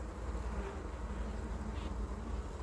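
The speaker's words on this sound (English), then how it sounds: "now we've got a bustling hive" A bustling honeybee hive gives off a steady, close buzzing drone that holds at an even level throughout, with no talking.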